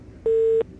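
A single steady telephone tone sounds for about a third of a second, clean and close, as a subscriber fails to answer the call.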